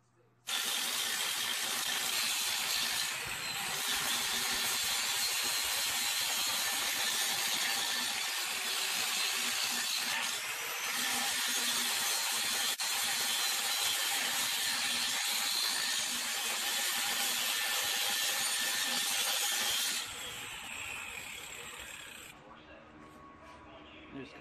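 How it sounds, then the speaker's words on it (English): Angle grinder disc cutting into the steel axle housing of a Corolla AE86 rear end during a GM 7.625 swap, a loud continuous high-pitched metallic grinding that runs steadily for about twenty seconds before easing off at the end. "While grinding here, you want to be very careful not to go too deep and damage the"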